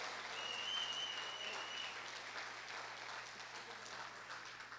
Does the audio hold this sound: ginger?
no